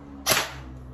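A single sharp crack of an LT 19T G2 airsoft gun firing one shot, close and loud, with a quick decay into quiet room tone.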